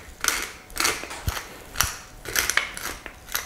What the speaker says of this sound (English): grinding pepper is always just fun.